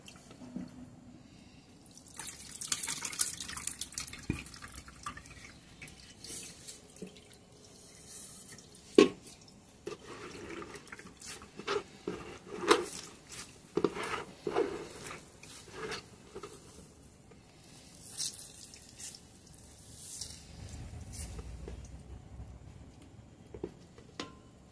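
Water from wheat starch extract, known as chik, dripping and trickling as it is strained in a home kitchen, faint and irregular with scattered small splashes and ticks over about twenty-five seconds, no voices.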